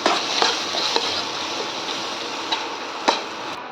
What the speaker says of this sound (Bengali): সবগুলো একসাথে আমি আবারও ভেজে নিচ্ছি।